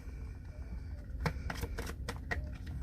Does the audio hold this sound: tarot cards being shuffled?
yes